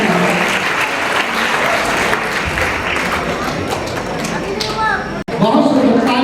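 Audience at a school awards ceremony for Class 10 and 12 achievers at Shanti Niketan Public School in Agra claps steadily in dense, continuous applause, with a voice speaking over it on a loudspeaker.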